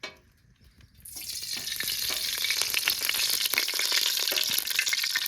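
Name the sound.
whole spices sizzling in hot oil in a kadai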